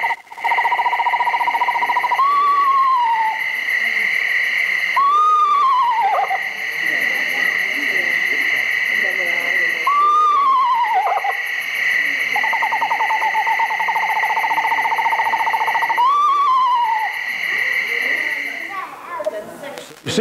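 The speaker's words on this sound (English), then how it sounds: "let's listen to a little bit of a call of what a screech owl actually does sound like" A descending, wavering eastern screech owl call repeats several times, a mournful wail over a steady background hum, with a trilling stretch between calls.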